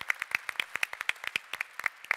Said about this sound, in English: I think big applause for Elena and Joaquin